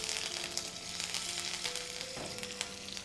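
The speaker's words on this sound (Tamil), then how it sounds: "இந்த எண்ணெயில் வந்து பார்த்திங்கன்னா நம்ம வந்து கொஞ்சமாக பட்டை, சோம்பு, கருவேப்பிலை போட்டு தாளிச்சிக்கலாம்" Cinnamon sticks, fennel seeds and curry leaves sizzle and crackle steadily in hot oil in a pan, a dense close frying hiss with scattered pops and faint stirring. No one talks.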